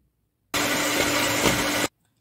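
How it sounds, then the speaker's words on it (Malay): Electric hand mixer whipping fresh cream until fluffy, a steady loud whirring drone running about a second and a half, starting and stopping abruptly with no talk over it. "sekarang kita nak mixer pula kita punya whipping cream hingga kembang ya"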